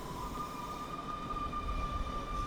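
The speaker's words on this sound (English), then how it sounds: "Is that the train? It's the train!" A video game train approaches a station, a low rumbling drone with a steady high whine or hum sustained over the rumble, moderately quiet and unchanging, with no talk.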